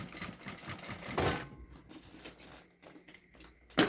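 A sewing machine stitches piping onto the side of a thermal bag in short bursts of rapid mechanical chatter, with quieter pauses between runs and a sharp knock at the end.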